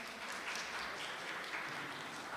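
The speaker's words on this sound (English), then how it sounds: "can you give yourself a round of applause?" Faint, steady applause from an audience, a soft continuous patter of clapping heard from a distance.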